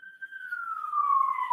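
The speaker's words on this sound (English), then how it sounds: "we've got Siren outside of court." A single siren wail sweeps slowly downward in pitch, fairly faint and distant, heard alone without voices.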